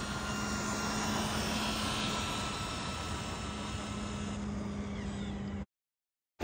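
Laegendary Thunder RC car electric motor run at full throttle on a 2S battery, a steady high whine with a sustained tone that cuts off abruptly near the end.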